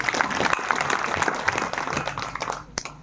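An audience at a kirtan in the Sangameshwar Mahadev temple at Nimkheda claps together in a dense burst of applause. It is loud and close at first, then thins and fades out near the end.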